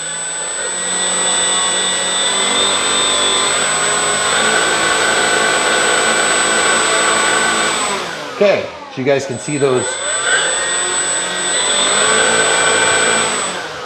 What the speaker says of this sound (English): I'm gonna shut off my throttle cut for the first time. If it starts spinning, I'll know that I need to adjust the throttle range.